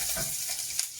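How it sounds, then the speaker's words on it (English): Chopped onions frying in a pan on a home stove, a soft steady sizzle with light crackle, close and fairly quiet, brief and continuous with no talking. "just frying some onions"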